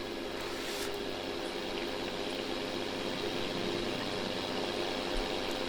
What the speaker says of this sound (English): I've still left my truck running